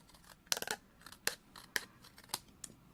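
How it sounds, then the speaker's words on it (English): Scissors snip repeatedly through paper, several quick crisp cuts in an uneven rhythm, close up with no voices. "just take my scissors and I'm just going to cut across"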